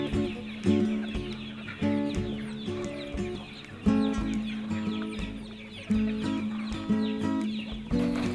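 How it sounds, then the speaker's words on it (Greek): Small flock of free-ranging hens on a remote island with a wildlife refuge, clucking and cackling in repeated bursts with no talk, over steady outdoor ambience and a busy background of other birds. "Οι λίγες κότες του Παπαγρηγόρη συμπληρώνουν την ορνηθοπανίδα των νησιών."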